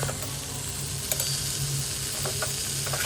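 Potatoes sizzling steadily in a hot pan, with occasional light scrapes and taps as they are stirred, close and continuous with no talk.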